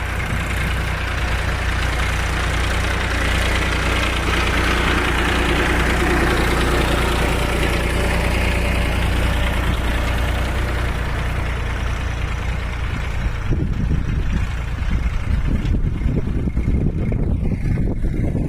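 A tractor engine runs steadily during sowing in a wet field, a loud, continuous low diesel drone close by. Its tone becomes rougher and more knocking toward the end.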